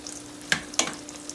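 Jambalaya bubbles in a pan on the stove, a soft steady simmer broken by two brief sharp pops or sizzles close by.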